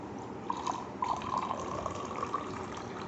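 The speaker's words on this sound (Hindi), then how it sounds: "एक कांच का ग्लास लेंगे प्लेन, और उसमें हम पानी डालेंगे। पानी डालने के टाइम देखना है कि आवाज़ आए" Water pours steadily into a plain glass, a close, gurgling trickle with small splashes and a faintly rising fill tone, heard alone without talk.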